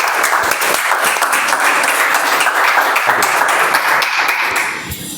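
Steady, dense applause from a seated meeting audience, many hands clapping together at a loud, even level that thins slightly near the end, with no talk over it.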